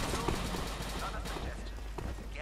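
Gunfire in the Dino D-Day video game, with rapid cracking shots rattling through busy game noise while a voice talks over it.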